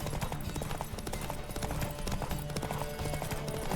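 Horse hooves galloping in The Witcher 3, steady rapid clip-clop beats pressing on continuously under a dense, loud game soundscape.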